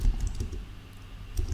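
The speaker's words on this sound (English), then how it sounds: "typing is not what we all came out here to watch" Fingers tap on a computer keyboard in quick, uneven bursts of soft clicks, close and fairly quiet, with no voices.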